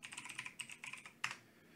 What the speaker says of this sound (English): I'm typing to nowhere.